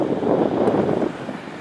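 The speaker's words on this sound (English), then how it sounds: "I'm out for my walk currently, and it's actually pretty windy today" Wind gusts across the microphone during a walk outdoors in a park, a loud, close, muffled rumble that swells and then eases slightly toward the end.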